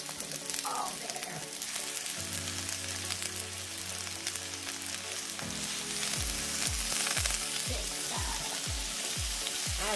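Onions and bacon sizzling in a pan for rosé tteokbokki, a dense steady crackling fry with occasional stirring and knocking noises, close and continuous, no talk.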